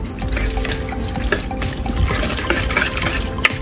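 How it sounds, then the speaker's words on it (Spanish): Diced potatoes and onion being folded into beaten egg for a Spanish tortilla de patatas, a close, continuous wet squelching and sloshing with scraping stirs against the bowl and no voices. "vamos a mezclar las patatas y la cebolla al huevo ya revuelto. Mezclamos bien todo."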